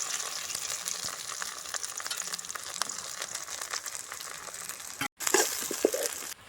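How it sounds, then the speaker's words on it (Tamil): Chopped big onions frying and being stirred in a pan with mustard seeds, cinnamon, chili and curry leaves, a steady broadband sizzle with scraping stirs, a brief dropout near the end, then louder clatter. "வெங்காயம் நல்லா வதங்கிடுச்சு."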